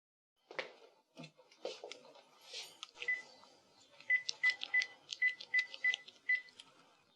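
A telephone keypad is dialed, with a few handling clicks first and then a quick run of short, evenly spaced tone beeps, close and clear.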